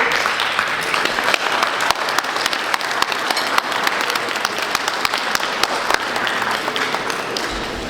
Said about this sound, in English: please stand so that you may receive your round of applause and your flowers